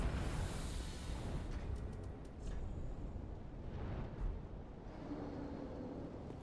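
Continuous fire attack roaring in Dark Souls 3 at Lothric Castle, a steady broadband rushing blaze with whooshing swells and brief bursts throughout, loud and close with no talking.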